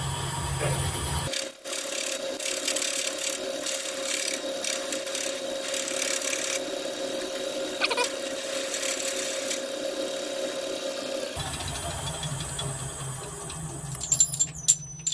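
A lathe drills a 10 millimeter hole, a steady grinding, rubbing hum at slower speed that briefly drops out near the start and shifts near the end, ending with a few small clicks.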